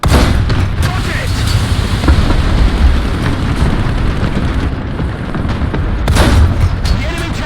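Heavy booming blast and rumbling gunfire from a tank video game, with a sharp burst of an enemy tank being destroyed near the end, loud and continuous over battle noise.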